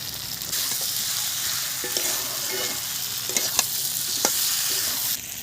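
Food frying and being stirred in a pan in Bengali cooking, a loud continuous sizzle with a few sharp spoon scrapes and taps against the metal, no talking.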